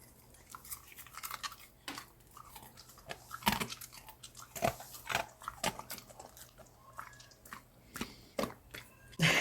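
A husky chews crispy, freshly made hot chicharron, giving a run of irregular close crunches and wet bites with short pauses between them and no talking.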